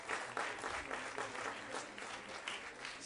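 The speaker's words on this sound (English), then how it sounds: "Could you give them another round of applause?" Applause for a high school water polo team at a district board meeting, a short burst of steady clapping from a small audience, faint and somewhat distant.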